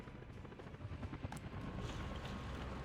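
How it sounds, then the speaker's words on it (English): Helicopters in the city-building game Workers & Resources: Soviet Republic give off a steady rotor thrum with rhythmic chopping pulses, moderately loud and continuous, alongside faint construction clatter. "Oh, helicopters."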